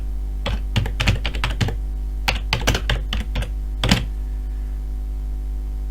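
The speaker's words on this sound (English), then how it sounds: "I'm going to create a paragraph block by simply clicking and starting to type." Fingers type on a computer keyboard in quick clustered bursts of close, crisp key clicks, broken by short pauses, over a low steady hum.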